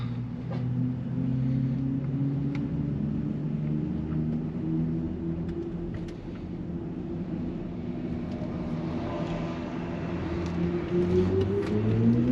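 A 2023 BMW iX 50 electric car cruises along the German Autobahn, a steady low drone of road and wind noise with a faint rising electric whine, constant in level and free of talk.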